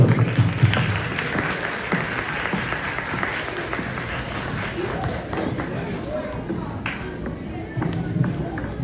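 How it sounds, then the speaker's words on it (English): Audience applause at a Pakistani community Independence Day celebration in Finland, a dense spread of clapping from a crowd, steady throughout with some thumps and background voices mixed in. "Round of applause for"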